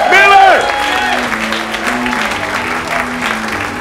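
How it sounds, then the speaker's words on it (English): An audience at a comedy bootcamp show applauds a comedian in a dense burst of clapping, with a host's voice speaking over the start before the applause carries on at a steady level. "big round of applause for Ken Miller."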